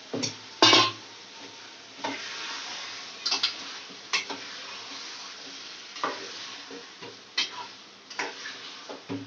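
Mutton keema with lobia frying and being stirred in a pan: a steady hiss of sizzling runs throughout, broken by repeated scraping strokes and light clinks from the spoon against the pot.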